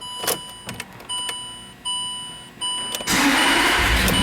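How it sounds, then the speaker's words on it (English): 2006 Land Rover LR3 SE being started from inside the cabin: several chimes and clicks as the ignition comes on, then the engine cranks and catches into a steady, close idle. "As I jump in here and fire the car up"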